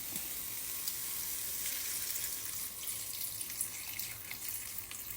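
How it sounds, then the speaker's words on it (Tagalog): A steady stream of water pours into a pan of cooking carrots and mushrooms, a continuous hissing splash with faint sizzling underneath, close by and without any talk. "Tapos, lagyan ng konting tubig."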